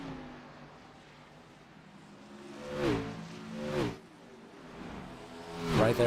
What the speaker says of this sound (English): wind of the car passing by the camera